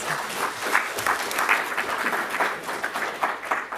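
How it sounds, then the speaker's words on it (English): Conference audience clapping for a speaker at a business talk, a moderate room of applause with individual claps audible, steady for a few seconds. "Let's give her another round of applause."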